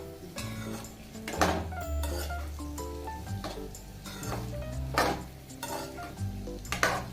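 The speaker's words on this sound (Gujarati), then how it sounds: "અને એને ત્રણથી ચાર મિનિટ માટે એને એમ જ ચલાવતા રહીશું એને સારી રીતે એકદમ સોતે કરી લેવાના છે આપણે ઘીમાં સાતળી લેવાના છે ગાજરમાં" Carrot gajar halwa sautéing in ghee is stirred with a spoon in a pan, with repeated clinks and scrapes against the metal over a soft sizzle. The sound is moderately close and has no talking.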